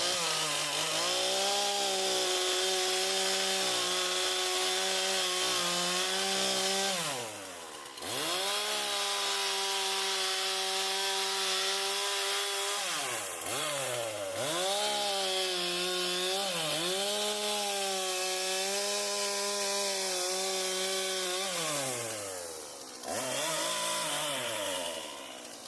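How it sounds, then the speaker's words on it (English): A chainsaw cuts trees during a yard cleanup, running loud and close with a steady roar. It revs up and down as it bites, with short idle dips between cuts. "it's always fun running a chainsaw and playing with tools"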